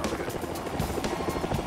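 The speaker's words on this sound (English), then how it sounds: "the pilot skillfully maneuvers the Black Hawk helicopter into a secured landing position" A Black Hawk helicopter maneuvers in to land during a Border Patrol rescue, its loud, steady rotor chop and engine roar filling the scene continuously and up close.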